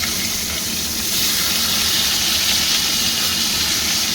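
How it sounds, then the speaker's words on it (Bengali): A koi fish fries in hot oil in a wok after being turned over, giving a loud, continuous hiss and sizzle close up with no talking. "মাছটা এক পিঠ ভাজা হয়েছে, আমি উল্টে দিলাম।"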